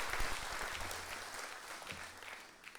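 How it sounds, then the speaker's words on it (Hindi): An audience at an inauguration event in Delhi applauds performers with brief, steady clapping that tapers off near the end. "उनके कलाकारों के लिए बहुत बहुत तालियां बजाकर हम स्वागत करेंगे"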